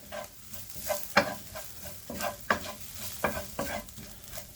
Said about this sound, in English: now I'm going to add in the herbs and give them a mix in